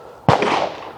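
A single sharp shotgun blast from a Marocchi over-and-under fired at a clay target, loud and close, with a sudden attack and a broad reverberant tail that fades over the following half second.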